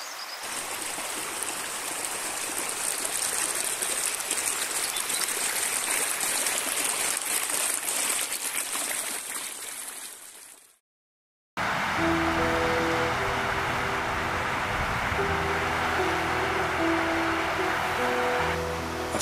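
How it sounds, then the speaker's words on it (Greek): The Sakoulevas river flows through the town of Florina, Greece, a loud, steady rushing wash of water that cuts out briefly and then resumes with a busier, more varied texture. "Αυτός είναι ο Σακουλέβας, το ποτάμι που διασχίζει την πόλη της Φλόρινας."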